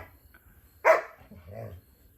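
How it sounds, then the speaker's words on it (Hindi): A dog gives a single short bark nearby, followed by a low whine or grumble, with quiet background noise. "ये डॉन उधर जा रहा है, भौंक रहा है, पास में नहीं जाएगा।"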